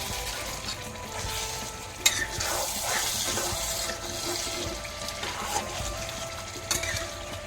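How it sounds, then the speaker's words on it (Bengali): Chicken for dhaba-style chicken kosa sizzles steadily in a pan while being stirred, with occasional scrapes and clanks of the spoon against the pan. "এখন আমি চিকেনটাকে ভালোভাবে নেড়ে চেড়ে নেব"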